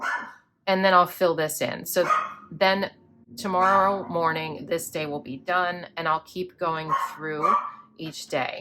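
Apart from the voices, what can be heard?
dog barking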